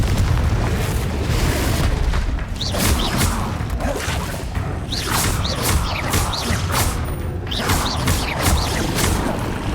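Loud, dense blasts and rumbling crashes from a fiery Confringo spell in the Hogwarts Legacy video game, with whooshing bursts layered over continuous heavy booming, no talk.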